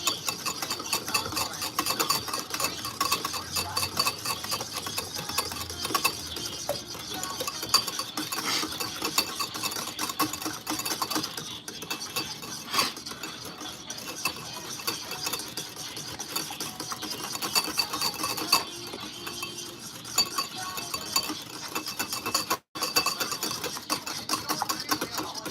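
Eggs Benedict sauce is whisked by hand in a bowl, a fast, steady, rhythmic scraping and clicking that runs without pause for the whole stretch.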